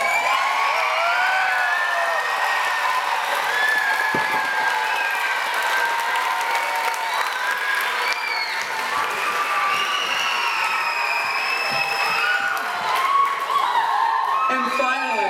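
A crowd at a 2014 Lego builders' competition breaks into sustained applause for coaches and mentors, with children's cheers and whoops over the clapping that carries on for around fifteen seconds.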